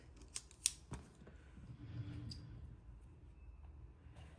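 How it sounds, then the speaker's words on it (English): Scissors snip through crochet yarn in a few quick, close metallic clicks, then near quiet with faint handling rustle. "I'm just going to tie this off with a double knot and cut it"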